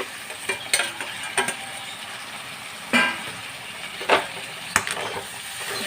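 Ginger and garlic fry in a pan for beef biryani while a spoon stirs them, with a steady sizzle and several sharp scraping clacks spread across the stretch.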